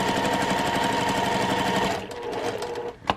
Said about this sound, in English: I'm matching that seam up, and then I'm just stitching it right along about 1/4 of an inch